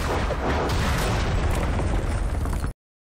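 A big, loud explosion in the Ejen Ali cartoon roars as a dense, sustained blast for almost three seconds with no speech, then cuts off abruptly.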